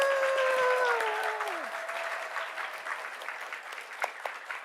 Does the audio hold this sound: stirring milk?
no